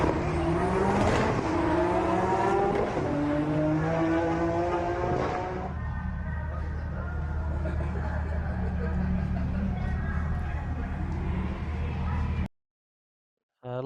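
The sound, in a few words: pro drag race car with Lexus 3UZ engine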